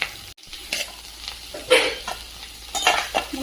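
Green chillies fry in a pan for a potato sabji while a spoon stirs them in short scraping bursts over a soft sizzle, with a clatter near the start.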